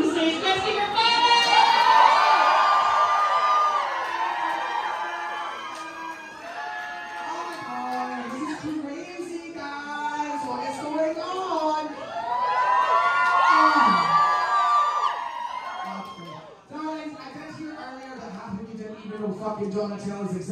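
A festival audience cheers and whoops loudly as a performer is welcomed to the stage, a dense mix of yelling and shouting voices that swells, dips and swells again, with children's shouts among it.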